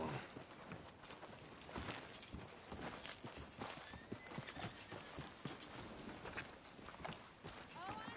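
Horse hooves clip-clop steadily on a street in the video game Red Dead Redemption 2, at a walking pace with occasional snorts, while voices talk over the top throughout.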